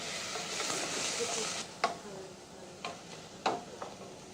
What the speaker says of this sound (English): The sauce for the cabbage begins with sautéed onion and bacon in butter.